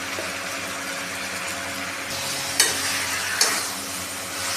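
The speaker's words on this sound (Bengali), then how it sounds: "এবার এটাকে আমরা ভালো করে কষিয়ে নিচ্ছি" Pumpkin with pointed gourd, raisins, salt and sugar sautéing in a pan, a steady close sizzle with stirring scrapes and two brief clinks of the spatula, no voices.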